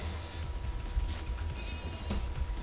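In the Payday 2 video game, a goat bleats in a wavering call over a steady low rumble of in-game background noise, with no voices over it.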